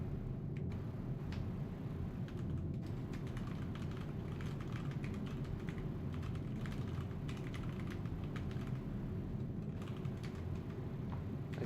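Typing on a computer keyboard during a PC gaming session, a fast continuous clatter of key presses close to the microphone over a steady background hum, with no talk.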